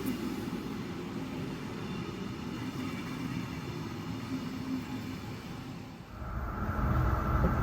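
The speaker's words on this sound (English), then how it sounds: "We're on a train, a local train, traveling from Lokeren to Ghent." Steady rumbling rattle of a local train in motion between Lokeren and Ghent, Belgium, with a constant low roar that swells louder near the end; no voices.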